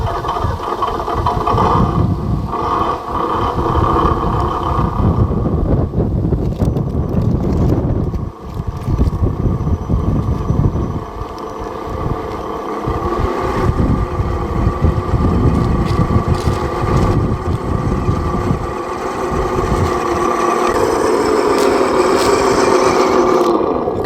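A Chevrolet Blazer 4x4 puller truck engine working under power outdoors in low gear: a heavy, rumbling roar with wind buffeting the microphone, ending in a rising whine as the truck speeds up.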